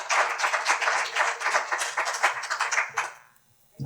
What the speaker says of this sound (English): I think they need an applause for